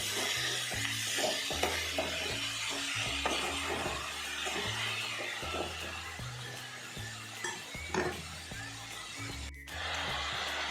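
Vazhachund thoran with curry leaves frying in a pan, stirred with a spoon, giving soft sizzling under repeated scraping and light clinks, close and continuous.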